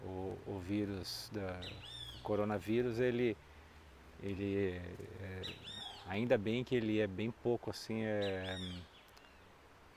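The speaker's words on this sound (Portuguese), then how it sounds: "tem um passarinho gritando aqui bem perto de mim" A small bird calls repeatedly nearby in short bright chirps, heard faintly beneath a person talking throughout.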